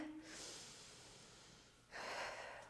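A soft, drawn-out breath taken in during a parallel-position ballet strengthening exercise, a faint airy inhale lasting over a second, followed by a second, fuller rush of breath near the end.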